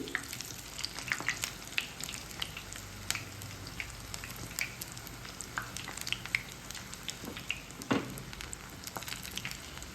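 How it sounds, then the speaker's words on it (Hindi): Dahi phulki fry in oil over a full gas flame with a moderate, even sizzle peppered with frequent small pops and crackles throughout. "जब तक ये गोल्डन फ्राई नहीं हो जाए तो इसको सेकना है।"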